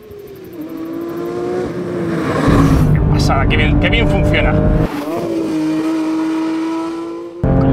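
A 2024 Porsche 911 GT3 Touring engine revs hard under acceleration, with automatic throttle blips on downshifts and a sharp rising engine note, loud and close, while someone talks excitedly over it.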